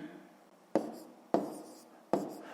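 Pen strokes on paper come as three short, crisp taps about half a second apart, close and fairly quiet, while numbers are written by hand during a maths exercise.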